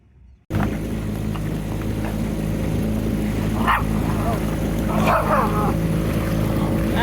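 A dog on a boat gives a few short yips and barks over a steady motorboat engine drone that runs throughout.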